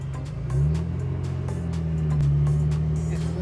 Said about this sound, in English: Midnight on a Sunday and this is still the flow of traffic